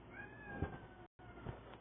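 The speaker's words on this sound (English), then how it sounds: "my cat just wanted some food" A house cat meows for food, a couple of close, clear meows with a drawn-out tonal cry and a brief gap of silence between them.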